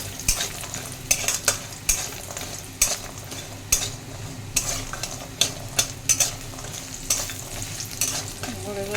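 Lentil dumplings (bori) frying in hot oil in a wok, giving a steady close sizzle broken by sharp stirring and scraping clatters at irregular intervals, with no talking.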